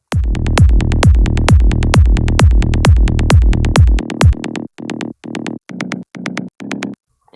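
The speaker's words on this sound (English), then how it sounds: "it sounds like this with the changed rhythm of the PsyTrance bass." A punchy psytrance electronic bass line pulses in fast, even rolling notes, then drops to sparser, choppier stabs before cutting out; no voices.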